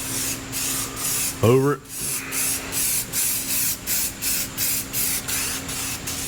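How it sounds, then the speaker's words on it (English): A spray can lightly mists red rust-stop primer onto a 1952 Chevy in a rhythmic series of short hissing bursts, loud and close, with a brief spoken phrase near the start. "I'm gonna use some red primer, rust stop paint for kind of like a guide coat. Just gonna kind of lightly mist"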